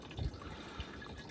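Water drains from a diesel fuel filter on a vehicle, a few soft low drips and trickles over a quiet background, the first drip the strongest.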